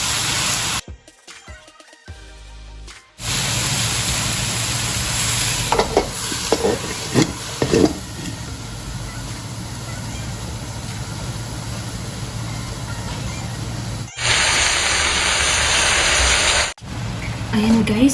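Broccoli and other vegetables stir-fry in a hot pan for a Thai rice noodle dish, giving a steady loud sizzle with occasional utensil scrapes, broken by short quiet pauses.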